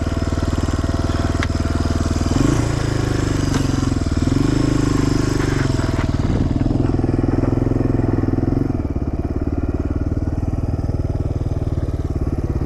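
A motorcycle engine runs steadily and loud from start to finish while the bike is in danger of tipping over on a road, its low rumble changing pitch a few times in the middle before settling back to a steady idle.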